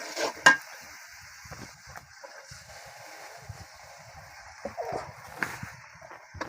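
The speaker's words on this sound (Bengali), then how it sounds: "এখন আমি ভালো করে নাড়িয়ে ছাড়িয়ে মশলাটা কষানো" Spice paste with coriander and salt being stirred and fried in a pan, with a soft sizzle under intermittent scraping and clinking of a utensil against the pan, plus a few sharper knocks and faint chirps in the background.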